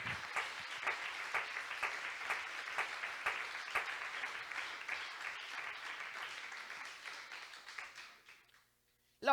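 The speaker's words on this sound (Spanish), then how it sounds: "Alguien que pueda aplaudir a este Dios maravilloso." A church congregation applauds during a worship service, steady dense clapping for about eight seconds that then cuts off abruptly into brief silence.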